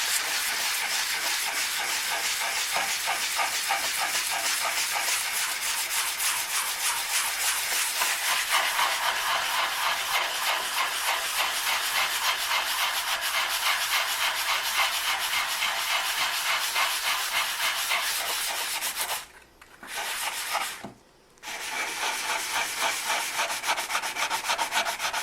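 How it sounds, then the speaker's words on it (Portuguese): Sandpaper scrubbing over a freshly cast, still-uncured resin piece, a close continuous rasping with fast back-and-forth rhythm that stops briefly twice near the end. "essa lixa aqui tá gasta, tem que ser uma lixa mais grossa"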